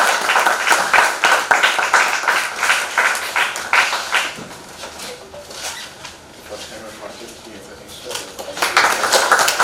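Audience applause at an award function where a guest from the Indian Literacy Board is welcomed with a shawl: dense, loud clapping at first, fading to scattered claps, then swelling again near the end.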